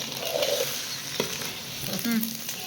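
A spoon stirs an egg and potato mixture in a hot pan, scraping and sizzling steadily for a few seconds, with no talking.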